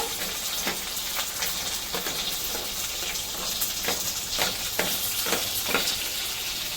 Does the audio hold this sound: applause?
no